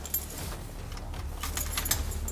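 Police officers jangle a ring of keys at an apartment door while unlocking it for an emergency, a bright metallic clinking that comes in several bursts over a low steady background hum.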